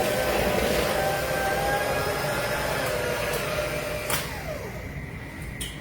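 An electric mixer beats banana nut bread batter with a steady, close, buzzing motor whine that spins down after about four seconds and ends with a brief clunk.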